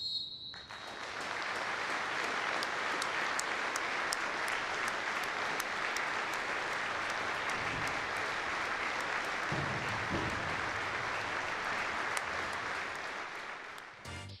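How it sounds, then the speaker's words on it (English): Sustained applause from a football crowd honouring a minute's applause before kick-off at a development side's playoff semi-final against Crewe Alexandra on a Wednesday evening, a steady dense clapping that holds for about fourteen seconds before tapering off. "of the late West Ham striker Dylan Tombides, the development side honoured a minute's applause prior to kick-off at their playoff semi-final on Wednesday evening against Crewe Alexandra"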